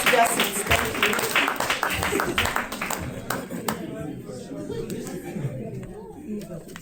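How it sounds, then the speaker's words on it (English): At a tech conference, the audience claps as speakers return to their seats: a burst of crisp clapping that thins out after about three seconds, leaving a few scattered claps over low murmuring chatter. "Clap for them as they go back to their seats."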